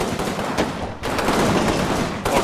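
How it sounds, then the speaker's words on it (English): 60mm mortar rounds impact in the Combat Mission war game Rome to Victory, with a few loud, close bangs, one after another, over a constant roar of battle noise. "You can see the 60mm mortars impacting there."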